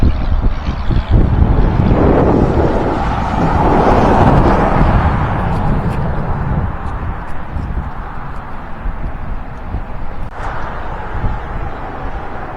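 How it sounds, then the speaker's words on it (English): Loud, blustery wind buffets the microphone in rumbling gusts throughout, outdoors at the Peace Bridge on West 3rd Street in Dayton, Ohio, with a sharp knock or two mixed into the roar. "Sorry, it's very windy out here today."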